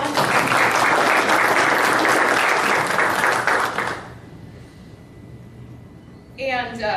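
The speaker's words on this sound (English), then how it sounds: "let's give them a big round of applause" A meeting room audience at a chamber of commerce gathering applauds officers with loud, dense clapping for about four seconds, then the clapping fades to quiet room tone before a voice begins speaking.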